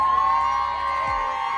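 A crowd aboard a cruise ship cheering and whooping as a woman is carried off, a dense continuous roar of many voices with a shrill tone running through it.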